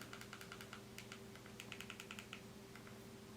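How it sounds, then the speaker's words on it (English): Quick, light taps on a touchscreen or keyboard as a search is typed into an app store on a device, coming in short bursts of keystrokes, faint and close against a low steady hum. "if you just type in Air and then space and then P, L, that's usually enough to get it"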